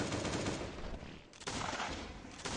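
Dense, continuous bursts of rapid gunfire from a video game, loud and sustained with a brief dip midway before the shooting resumes.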